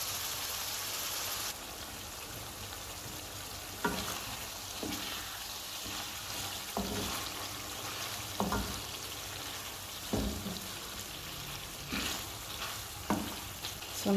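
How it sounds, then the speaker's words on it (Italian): Veal stew meat for a pepper stew sizzles steadily in a pot while a utensil stirs it now and then, giving periodic scraping knocks over the constant frying hiss, close and with no talking. "Lascio andare per 10 minuti mescolando la carne di tanto in tanto."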